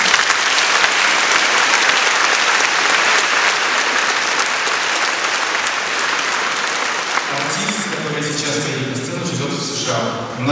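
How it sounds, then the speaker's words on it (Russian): An audience at a jubilee concert in a large concert hall applauds loudly and steadily for about seven seconds, then the clapping fades as a voice begins speaking. "Я считаю, это достойно ваших аплодисментов."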